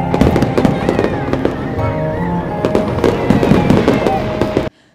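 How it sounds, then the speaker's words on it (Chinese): High-altitude fireworks over the Keelung harbor landmark, a dense run of sharp cracks and booming bursts with crackling between them, loud and continuous until it cuts off abruptly. "这次在基隆地标上面呈现的高空烟火灿烂夺目"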